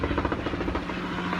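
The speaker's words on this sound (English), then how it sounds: "Helicopters going over. It's probably a news helicopter." A helicopter passing overhead, probably a news helicopter, its rotor producing a steady, loud rhythmic chop that fills the whole short moment without any talking.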